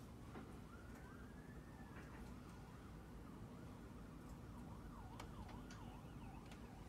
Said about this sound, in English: Because of this siren only